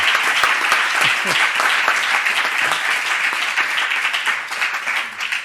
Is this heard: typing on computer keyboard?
no